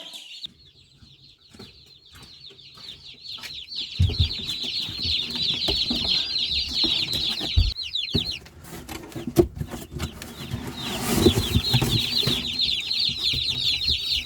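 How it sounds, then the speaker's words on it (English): Dense, continuous high-pitched peeping from a group of about ten day-old chicks, close by and steady throughout, with some rustling and shuffling underneath. "you can hear the chicks"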